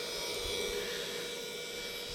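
A small electric motor drives a car air-conditioning flushing machine working on a Renault Scenic 2, giving a steady, even hum with broadband hiss at constant level throughout.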